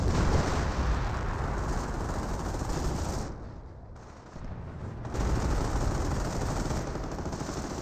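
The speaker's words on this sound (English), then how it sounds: "And we do have another Hummel barrage to somewhere" Hummel artillery barrage in Company of Heroes, a dense, continuous roar of blasts and gunfire that briefly eases in the middle before surging back at full loudness.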